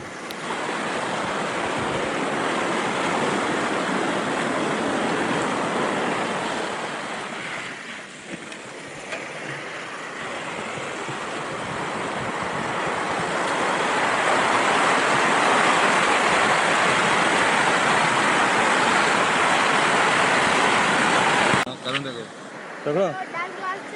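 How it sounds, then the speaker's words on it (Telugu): Fast-flowing water at Gorukal Reservoir, a loud broad rushing roar that dips briefly and then swells even louder before cutting off near the end. "అంత బాగా అయితే ప్రవహిస్తున్నాయి నీళ్ళు, అయితే చాలా చురుగ్గా అయితే ఉరుకుతున్నాయి."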